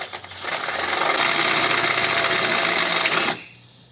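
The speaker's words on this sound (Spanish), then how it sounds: "Ahora sí, vamos a taladrar el remache." Power drill on an Opel Corsa E drilling out a rivet during a windshield washer reservoir and pump replacement, a close, loud steady whir of about three seconds that stops abruptly.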